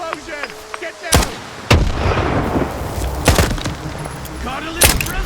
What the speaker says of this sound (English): Explosion! Get down!